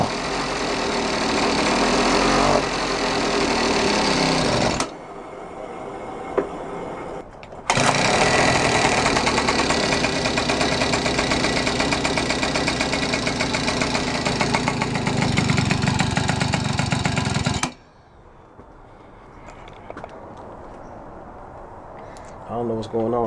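A 49cc gas scooter engine runs after being started, a loud steady buzzing drone with a knocking edge that cuts out briefly, resumes, then stops, leaving quieter sound with voices.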